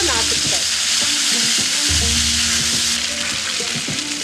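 Green chilli paste and a splash of water hitting hot frying spices for mustard pabda fish curry, a loud, close, continuous sizzle and crackle with a few spoon scrapes and stirs.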